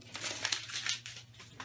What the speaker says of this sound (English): Just a pair of scissors, trim around it.